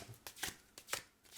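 Tarot cards being shuffled by hand: a quick series of crisp, papery riffles and slaps, several sharp bursts close up and fairly quiet, with no talking.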